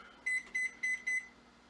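A kitchen timer sounds four short, evenly spaced electronic beeps in a home kitchen while banana bread goes into the oven, clear and moderately quiet with no talking.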